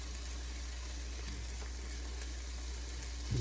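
Chorizo and chopped vegetables frying in a pan on the stove, a steady dense sizzle and crackle held at an even level throughout, close and alone with no talk.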